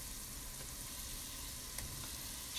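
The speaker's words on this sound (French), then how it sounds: "Maintenant, je vais mettre la viande." Meat dropped onto fried onions in a tajine for a fennel tajine hisses in a steady, close, even sizzle, with no voices over it.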